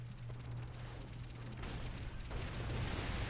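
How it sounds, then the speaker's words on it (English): Booming rocket blasts hit ships in World of Warcraft, a steady rumbling roar with a low hum underneath that swells louder toward the end, with no speech. "Rockets on those ships."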